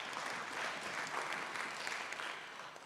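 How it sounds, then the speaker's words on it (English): An audience applauds the presenters at a livestock biotechnology event, a steady, dense patter of many hands clapping, moderately distant and even throughout. "Ladies and gentlemen, let's give an applause to all the presenters."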